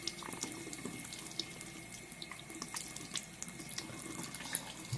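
Water runs steadily from a tap to fill a toy, a soft continuous splashing and hiss throughout with no talk.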